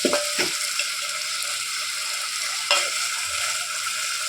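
Chilli powder being stirred into a curry in a pan, a steady soft sizzle of frying with a few sharp spoon scrapes against the pan near the start and middle; no voices.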